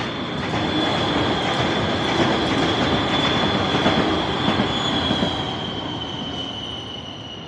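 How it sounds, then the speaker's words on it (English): A train rumbles past close by with a steady broadband roar and a high metallic wheel squeal running throughout, easing off slightly toward the end. "Oh, there goes the train."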